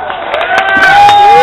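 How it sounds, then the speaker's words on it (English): A crowd at a virtuous woman award event breaks into applause and cheering, swelling in loudness over a brief moment, with voices rising through the noise. "give the good woman a big round of applause"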